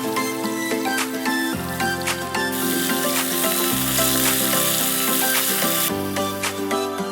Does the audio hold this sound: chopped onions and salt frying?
yes